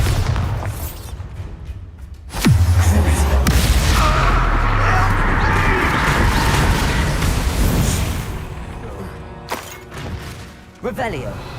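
Bombarda spell blasts in Hogwarts Legacy erupt as a deep booming explosion followed by a long rumbling, crackling roar that slowly fades, with sharp magical cracks afterward and a voice shouting spell names over it.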